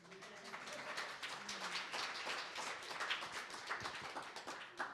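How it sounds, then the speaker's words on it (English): Sparse clapping from a small audience at a mental health town hall, faint and somewhat distant, a continuous patter of hand claps with no talking over it. "You may applaud."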